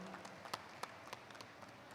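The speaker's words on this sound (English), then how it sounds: "A big round of applause for Mr. Kenny Chan." Light, scattered applause from a conference audience at a book fair session after a talk on bookselling business models, a few distinct claps over a soft, thin hand-clap texture, brief and fairly faint.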